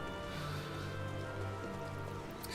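Rain falls in the Final Fantasy XIV world as a soft, even patter, faint and continuous with no break.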